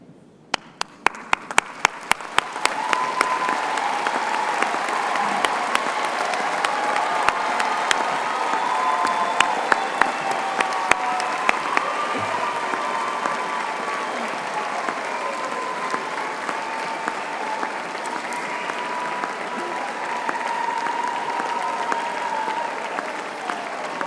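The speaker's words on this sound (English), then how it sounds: "join me in giving them a well-deserved round of applause" A large graduation audience gives a sustained round of applause for the graduates' families, dense clapping that starts sharply and holds steady and loud for over twenty seconds.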